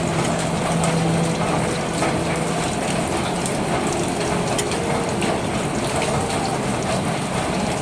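A nut being tightened on the side stand of a Honda Beat motorcycle, with continuous close ratchet clicking and metallic mechanical rattling throughout.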